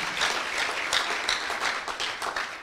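Church congregation acclaiming with applause during a Metro Church service, a lively, uneven clapping of many hands at moderate level with scattered louder claps and faint cheering mixed in.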